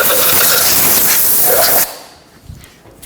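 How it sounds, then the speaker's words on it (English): Compressed air sprays dirt and debris off the 2.0L engine of a 2013–2019 Ford Escape, a loud, close, steady hiss lasting under two seconds that cuts off sharply, followed by quiet with a few faint knocks. "I'm just going to spray it with some compressed air."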